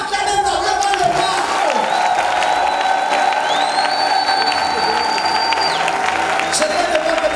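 A church congregation applauds and cheers during worship, sustained clapping and whoops from a large crowd filling the room, with a voice speaking over the noise and tonal sounds carrying through.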